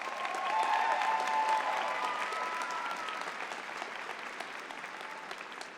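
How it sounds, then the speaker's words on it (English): Applause from a graduate commencement audience for Melissa, a dense, steady wash of many hands clapping that swells early and then slowly tapers, with no talk over it. "Let's give Melissa one more round of applause."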